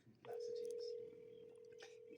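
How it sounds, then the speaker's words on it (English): A telephone line tone sounds on a call, a steady electronic tone that starts sharply, holds loud, then continues slightly softer, with faint voices around it. "it'll just ring and ring and ring and ring unless they unblocked it"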